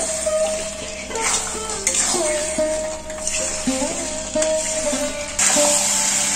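Mutton is stirred and fried with spices in a pan, a steady sizzle broken by scraping spatula strokes and occasional clanks of metal on metal, all under continuous tonal background music.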